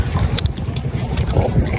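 Rumbling boat ride with engine drone and rushing wind buffeting the microphone, water noise underneath, a few faint voices in the background.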